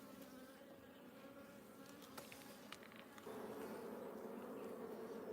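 Honeybees buzzing steadily from an opened backyard hive during a midsummer check in Australia, a dense continuous drone that thickens and grows louder partway through, with a few brief handling knocks.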